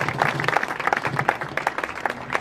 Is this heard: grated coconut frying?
no